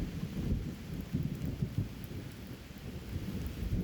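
Steady heavy rain pours throughout, with low rolling thunder rumbling beneath the constant hiss of the downpour.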